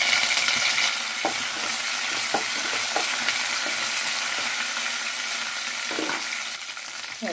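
Half a spoon of mustard seeds, a chili and curry leaves sizzle in hot tempering oil for hobbattu sambar, a continuous close crackling fry punctuated by light stirring clicks.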